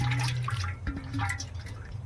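A short, quiet pour of water over a live magur catfish, with light splashing and dripping, close by.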